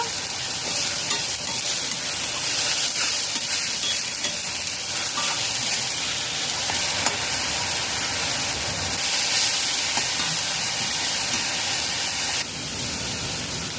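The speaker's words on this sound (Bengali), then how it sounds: "মিডিয়াম ফ্লেমে পেঁয়াজ নাড়াচাড়া করে কষিয়ে নেব" Onions fry on a medium flame while being stirred in a pan, a steady loud sizzle with scraping stir sounds throughout and no talking.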